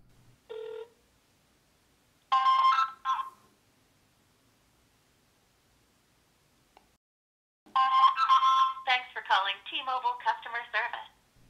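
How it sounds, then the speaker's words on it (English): An iPhone places a call to T-Mobile on speakerphone. Electronic tones and a brief ring play in short bursts separated by silence, followed by a longer stretch of tones and ringing, close and fairly loud, with no talking. "Dial our friends over at T-Mobile. Turn on our speaker."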